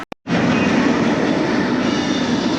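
Roller coaster trains on Pipeline, a surf-style coaster at SeaWorld Orlando, give a steady loud broadband rumble and roar that starts abruptly after a couple of quick clicks and holds for the rest of the stretch.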